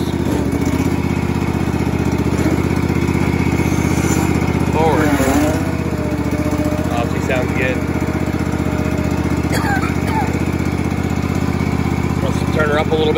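A Cub Cadet 1525 hydrostatic riding lawnmower with a 15 HP Kawasaki engine running at a steady, loud idle close by, with brief voices and small mechanical clicks over the engine drone.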